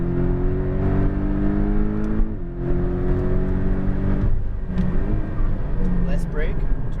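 A Porsche Cayman GTS on a race track pulls hard in third gear, its engine note climbing and then dropping as it comes off the throttle, heard from inside the car with a voice speaking over it.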